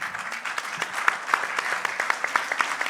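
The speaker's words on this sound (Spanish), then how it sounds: "Un aplauso para ella." A seated audience at a tribute concert honouring a composer claps warmly, with individual hand claps standing out as distinct sharp pops over a continuous bed of applause.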